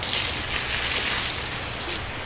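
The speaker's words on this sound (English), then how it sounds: "as you can tell, it's raining out." Steady rain pattering on a surface, a constant wash of drops with no voices, even and close throughout.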